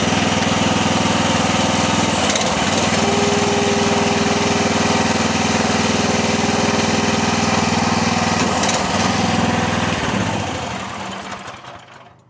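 A cheap SDLL30 IRL30 mini skid steer's small engine drones loud and close for a long stretch while its hydraulic arms lift, with slight shifts in load before the engine winds down and fades at the end.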